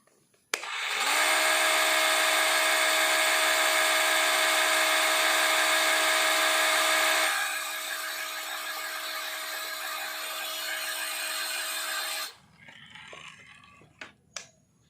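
Worksite CCS334 20V cordless circular saw running free: a sharp start, then a loud, steady high whine that drops in level partway through before the motor is cut and spins down, with a few small clicks after.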